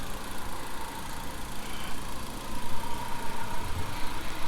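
A rebuilt Hyundai Genesis Coupe engine idles steadily with a moderate, even hum and slight rises in level, heard alone without voices.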